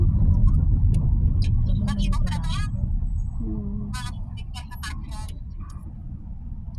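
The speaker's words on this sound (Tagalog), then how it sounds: "Grabe ang traffic." Steady low road rumble from heavy traffic with cars passing nearby, continuous throughout, with a brief murmur of voices over it.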